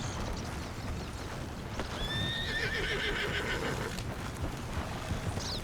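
A horse whinnies loudly and close, a rising-then-falling neigh in the middle of the clip, with soft hoof clops and rustling around it and no voices.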